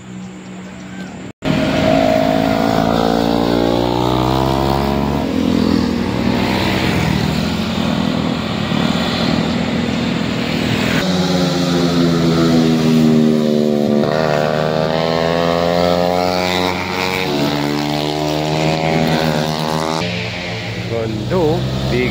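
Big bike motorcycles, including a GS, ride past on the Marilaque highway, their loud engines revving and rising and falling in pitch as they pass close by. People talk throughout.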